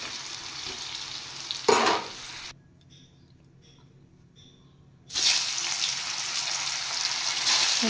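Paneer frying in hot oil, with a loud continuous sizzle that drops out to near quiet midway and then returns just as loud, a stirring clatter sounding before the break.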